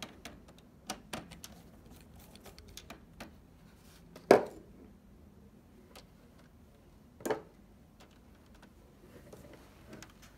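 Torx T8 screws being removed from a PS4 Pro console, a quiet run of small close ticks and clicks with two louder scrapes from the screwdriver and casing, no talk.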